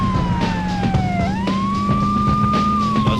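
A police siren in the Beetle Adventure Racing video game wails steadily, its tone sliding down and back up over a constant low engine drone, loud and close with no talk.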